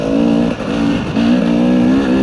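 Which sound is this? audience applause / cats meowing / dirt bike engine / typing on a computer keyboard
dirt bike engine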